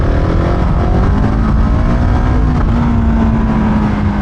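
A Husqvarna 701 Enduro single-cylinder motorcycle being ridden hard, with its engine droning loud and close as the pitch climbs and holds steady through acceleration, with wind noise over it.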